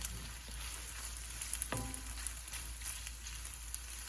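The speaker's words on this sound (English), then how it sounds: "Just stir that around" Whole basil leaves wilting in a hot frying pan, a soft continuous sizzle with a brief stirring scrape, close and quiet with no talk.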